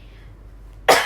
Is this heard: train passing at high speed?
no